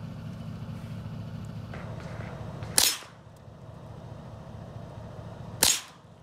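Two sharp, loud pistol shots from a Canik TP9 at an outdoor shooting range, about three seconds apart, each cracking hard over a steady low rumble of background noise.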